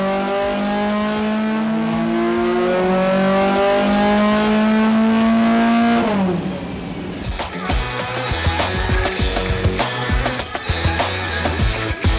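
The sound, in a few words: BMW M6 V10 engine revving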